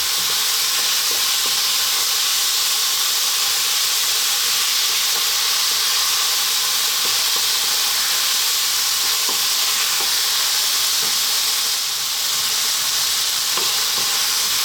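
Garlic ginger paste and fresh chili sizzle and fry in a pan for a beef and potato curry, a steady close hiss with faint scraping stirs throughout.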